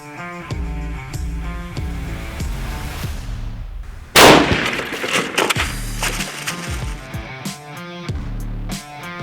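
A single loud gunshot from a handgun firing a hollow point bullet into test blocks cracks out sharply midway, its broadband blast and ringing tail standing out over steady background music.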